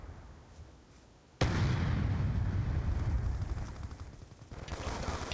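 A sticky grenade detonates in Call of Duty Black Ops 2 multiplayer, a sudden loud blast that breaks a quiet moment and rolls on as a dense, sustained rumble of game combat noise.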